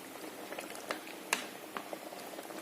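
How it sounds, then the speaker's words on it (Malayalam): A cooking pot of fish curry bubbling on the heat, a steady soft simmer of wet pops and gurgles at close range, with no talking. "ശീല തിളപ്പിക്കുന്നു"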